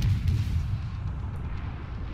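A warship gun fires in the naval video game World of Warships, giving a deep, rumbling boom that rolls off into a low fading tail. It is a single heavy blast with no talk over it.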